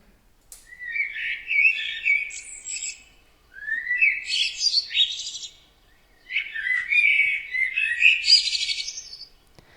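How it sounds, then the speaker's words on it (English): Three phrases of bright, varied blackbird song, each a few seconds long with short pauses between, clear and fairly close with no other sounds. "The blackbird announces with a certain song that wild boars are present."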